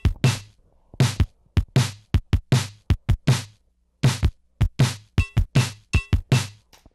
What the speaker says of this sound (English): This song actually started as a drum machine loop that sounds like this.